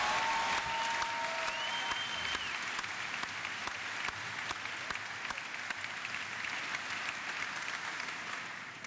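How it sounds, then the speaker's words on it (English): Broad, steady applause from an assembled crowd at a mass military reenlistment ceremony in a rotunda, continuing evenly with a few faint shouts in the first seconds. "Give yourselves a round of applause and hooahs"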